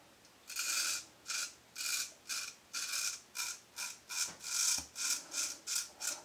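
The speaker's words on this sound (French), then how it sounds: "la mousse je la monte au visage et au bol, ça fait pareil" A shaving brush whips soap lather in a bowl with about fourteen brisk, evenly spaced rubbing strokes, close and bristly, with no voices.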